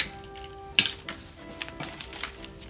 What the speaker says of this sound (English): Prep your first piece of tape.